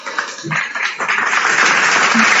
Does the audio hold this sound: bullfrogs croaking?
no